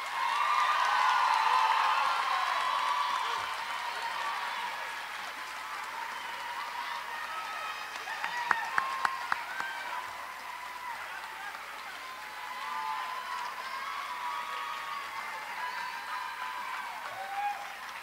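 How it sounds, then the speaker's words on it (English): Applause from an audience in Jesse Auditorium at a university Tap Day ceremony, a steady wash of clapping that swells at the start, settles and carries on for the full stretch, with a few brief sharper sounds midway. "Please give a round of applause for our student TAPs."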